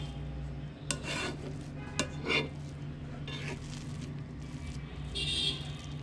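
A spoon scrapes and stirs through prawn biriyani rice in a cooking pot, with soft intermittent clinks and rustling against the metal over a steady background hum, close and moderately quiet.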